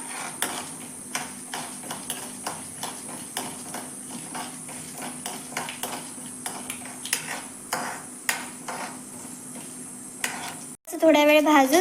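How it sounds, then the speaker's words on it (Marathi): Onion-garlic chutney mixture being stirred and roasted in a pan, with a steady, close scraping of a spoon against the metal over a soft sizzle, then a brief clatter near the end. "आणि आता आपल्याला असं हे मिक्स करून घ्यायचं आहे, चांगलं भाजून घ्यायचं आहे।"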